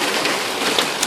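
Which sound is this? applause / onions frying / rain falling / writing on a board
rain falling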